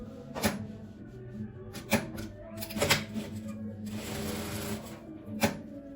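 Sewing machine stitching fabric lining onto a zipper for a patchwork fabric pencil case, with short bursts of rapid mechanical clatter, sharp clicks and a steady whirring run, close and fairly loud.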